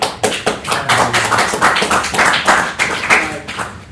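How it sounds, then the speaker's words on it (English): A small audience at a birding club presentation claps for a student, with close, distinct, fairly loud handclaps in an uneven rhythm from a modest group in a room. "I think you guys can all clap for Aiden"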